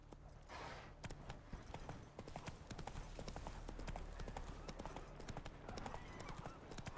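Horse Roach's hooves clip-clop steadily on the ground in The Witcher 3, a continuous rhythmic trot near Kaer Morhen heard over a low ambient game bed, with a brief neigh-like tone near the start.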